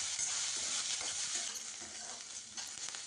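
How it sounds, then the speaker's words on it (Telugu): Two chopped medium onions and four green chillies fry in oil, a steady hissing sizzle with stirring, close and continuous. "2 మీడియం సైజ్ ఆనియన్స్, 4 పచ్చిమిరపకాయలు తీసుకొని ఇలా చిన్నగా కట్ చేసుకొని ఆయిల్లో వేసి బాగా గోల్డెన్ బ్రౌన్ కలర్ వచ్చే వరకు వేయించండి"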